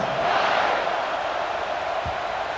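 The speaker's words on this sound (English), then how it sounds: "this crowd is buzzing after that last score" A college football stadium crowd buzzes as a steady, loud wash of massed voices after a score, continuous throughout with no single voice standing out.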